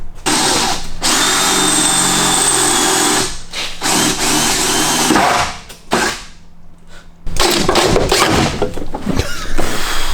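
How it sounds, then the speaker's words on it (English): A power drill bites through spot welds on the battery box of a Toyota AE86, loud whining bursts close by that stop and restart, with short quiet gaps and rattling metal between runs. "we're gonna try that on the battery box"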